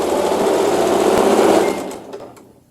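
A sewing machine stitching a fabric seam for a digitized quilt block, a loud close steady whir running for about two seconds before slowing and stopping, leaving faint handling noises.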